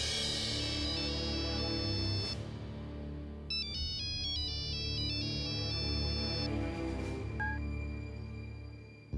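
A mobile phone rings with a bright, repeating electronic melody, loud and continuous, over a steady sustained backing tone, and stops after several bars.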